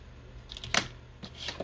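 Scissors cut paper for a tea bag junk journal in a few quiet, crisp snips close by, one sharper cut followed by a short run of lighter clicks.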